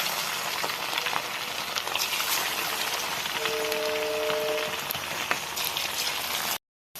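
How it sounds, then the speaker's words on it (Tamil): Marinated chicken breast fries in hot oil over a slow flame, a steady dense crackle and sizzle like rain that continues unbroken and fairly loud, with no talking, before cutting off abruptly near the end. "இப்போ எண்ணெயில் போட்டு ஃப்ரை பண்ணிக்கலாம்."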